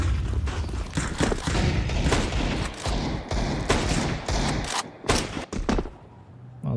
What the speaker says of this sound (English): A lot of bullets put through the wall of smokes